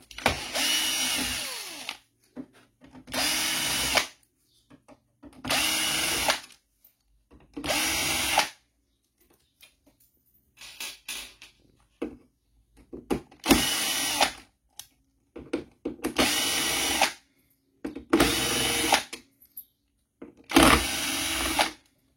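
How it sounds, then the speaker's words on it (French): A cordless power screwdriver backs screws out of a roller shutter in short, loud bursts of whirring, each lasting about a second. Brief quiet gaps and faint handling noises separate roughly nine runs. "je vais le faire à la visseuse, c'est plus rapide"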